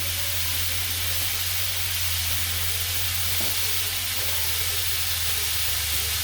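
Steady, continuous sizzle of koi fish curry with cauliflower cooking in a pan after water is added, a soft even hiss throughout with faint stirring, no talk.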